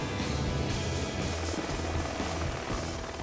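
A helicopter on a sling load operation with bush pilots makes a loud, steady rotor and turbine drone throughout, with a continuous beating thrum and no talk.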